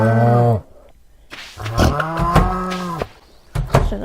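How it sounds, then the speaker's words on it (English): Cattle in the Stardew Valley farming game moo loudly and up close, several long lowing calls in a row with short pauses between them, no talking. "Let the cows out."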